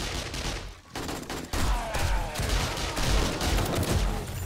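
Sustained bursts of gunfire in the zombie survival game 7 Days to Die, rapid shots packed close together with a brief lull near the start, loud and close.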